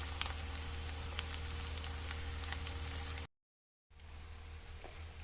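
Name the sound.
frying onions in a pan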